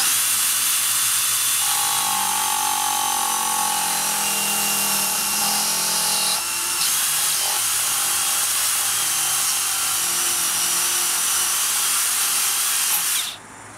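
Makita 18V cordless belt sander (XSB01 / DBS180, 9mm) plunge cutting a rectangular hole, giving a steady loud motor whine with a grinding, shifting cutting tone throughout, stopping abruptly near the end.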